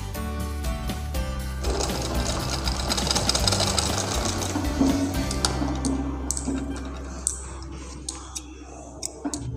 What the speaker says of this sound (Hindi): इसी तरह पूरे गले पे हमें सिलाई कर लेनी है।